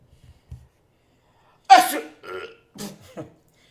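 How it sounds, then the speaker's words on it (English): One loud burp breaks the quiet, followed by a few short snorting, sniffly bursts separated by pauses. "What's that, a burp snort?"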